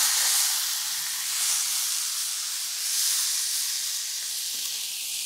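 A tomahawk ribeye steak sears over a charcoal flat side on a Weber grill, giving a steady, loud broadband sizzle and hiss that swells gently in waves and carries on without any talk.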